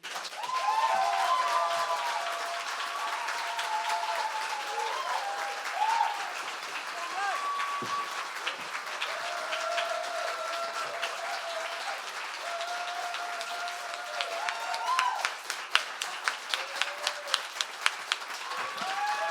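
Audience applauding after a poetry reading, sustained clapping from a crowd that swells and continues, with cheers and voices mixed in and a few sharper individual claps standing out toward the end.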